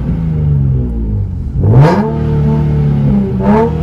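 A Nissan 370Z engine revs hard twice with its exhaust, a loud close rise near the middle and a shorter blip near the end, each falling back into a steady idle rumble.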